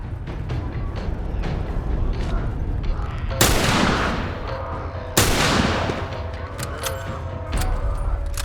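Gunfire in The Last of Us, two loud sharp blasts with long noisy decays, spaced a couple of seconds apart over a dense rumbling game background.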